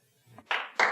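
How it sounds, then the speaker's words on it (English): Two sharp, close hand claps ring out a quarter second apart after a brief soft murmur, each with a short bright decay. "Notice that's not us clapping."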